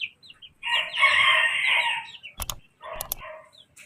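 Chickens in a backyard coop cluck and call close by, followed by a pair of sharp knocking sounds.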